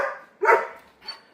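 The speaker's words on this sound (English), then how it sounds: "The minute I turned this video on, they went nuts." Several dogs bark in quick bursts, a loud close bark in the middle followed by a softer yip, with no talking.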